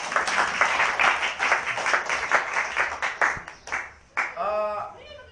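A church congregation claps together in a sustained burst of applause, dense and steady for several seconds, before a brief pause and a preacher's voice resuming over the last moments.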